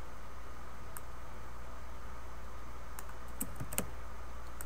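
Computer keyboard typing, a few sparse, faint key clicks heard mostly toward the end over a steady hiss of background noise, with no voices.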